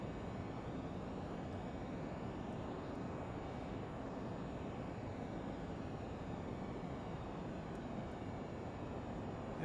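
A Learjet 35 in a flight simulator climbs sharply after departure, its jet engines producing a steady, even roar with no break and no talk.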